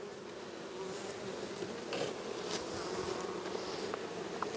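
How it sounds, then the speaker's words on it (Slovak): Honeybees buzz around an open beehive, a dense, continuous swarm drone that hangs at a soft, steady level with no voices. "tie včielky sú na mňa naozaj dobré"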